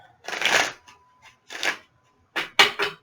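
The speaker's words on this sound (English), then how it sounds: "2 more shuffles." Playing cards, tarot-reading style, are shuffled up close in quick riffling bursts, four or five separate shuffles with short silences between them.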